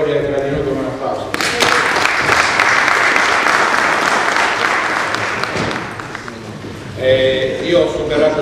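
An audience at a meeting on historic carnivals breaks into loud sustained clapping that swells and then fades, with voices talking over it before and after.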